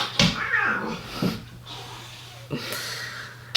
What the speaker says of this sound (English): My cats are gonna fight.